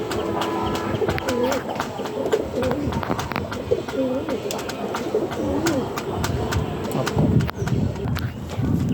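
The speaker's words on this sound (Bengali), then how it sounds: "কবুতরগুলা সব আটকা থাকে বেশিরভাগ টাইম" Caged pigeons cooing in a loft, their soft repeated coos rising and falling throughout amid scattered rustling and a busy background bustle.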